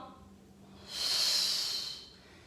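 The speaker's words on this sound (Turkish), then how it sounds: "Nefes alıyorum." A single slow, breathy inhale during a squat exercise, rising and fading over about a second, close to the mic in a quiet room.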